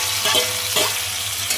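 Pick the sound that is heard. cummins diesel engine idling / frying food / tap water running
frying food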